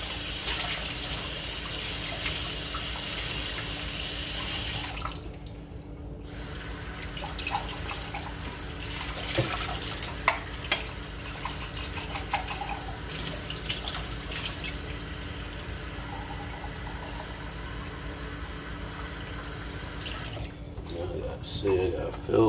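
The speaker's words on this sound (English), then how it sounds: "I gotta fill this on the inside and see if I have too much water in here." Water runs from a tap into a container in a steady broadband gush lasting most of the stretch, with brief pauses and clatter near the start and end.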